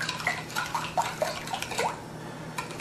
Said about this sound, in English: So you got to start stirring, and you've really got to get the milk moving.